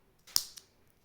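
A single quick snip of scissors cutting crochet yarn, a sharp close click with a fainter second click just after, otherwise quiet.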